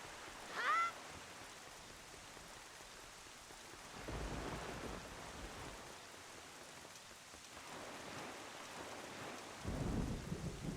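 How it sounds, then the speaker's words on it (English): Stormy weather on Windfall Island in The Legend of Zelda: The Wind Waker, steady rain hissing throughout with low rumbles of thunder swelling in the background, fairly quiet overall. "It's wandering around stormy Windfall Island, looking for trouble, looking for pirates."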